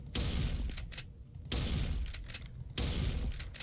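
Three heavy gunshots ring out at an even pace in the Jeff the Killer asylum video game, each a loud, close blast trailing into a short rumbling decay.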